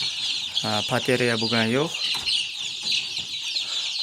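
Young chickens about three weeks old give a short, close run of clucking calls, followed by softer cheeping in a home brooding setup, with a voice speaking briefly.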